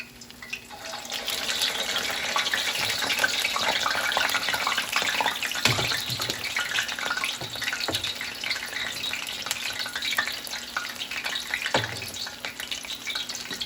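Steady rushing water runs from a tap, a broad continuous splash with a few soft knocks and clatters, no voices.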